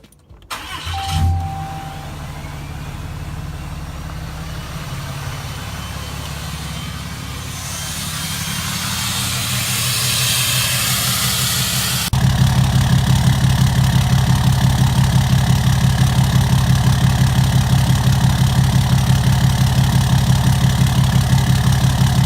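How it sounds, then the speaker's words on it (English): A car engine cranks and catches, revs briefly, then settles into a loud, steady idle with a regular rhythmic pulse, running smoother with its earlier lope gone after fuel filter trouble. "The engine seems to be cycling a lot more smooth."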